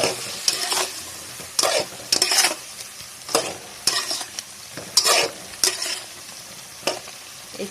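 Chicken kadhi masala with coriander, salt and black pepper frying in a pan, stirred with repeated sharp scraping strokes over a constant sizzle, loud and close with no talking.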